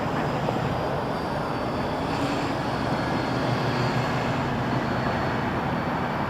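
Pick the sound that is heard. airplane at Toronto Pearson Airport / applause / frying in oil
airplane at Toronto Pearson Airport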